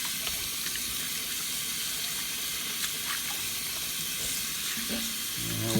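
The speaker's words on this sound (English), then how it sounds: "Let me get all that extra flour off my hands also." Running water from a kitchen sink tap splashes steadily while flour is rinsed off hands, a continuous close broadband wash with no talk.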